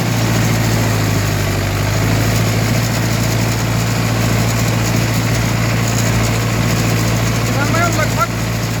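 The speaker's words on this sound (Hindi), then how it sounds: "4 व्हील मूड पे ट्रैक्टर चल रहा है" A Mahindra 585 tractor in four-wheel drive pulls a harrow through a field, its engine holding a loud, steady low drone for the whole stretch with no break.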